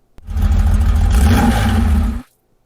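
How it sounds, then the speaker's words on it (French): A car sound effect: an engine roars in for about two seconds as a steady, loud rush, then cuts off abruptly into silence. "ici sur la première piste, j'ai le bruit de la voiture."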